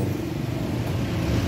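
A noisy washing machine with a faulty gearbox gives off a steady, close, low grinding rumble that drones on without pause, with no talking.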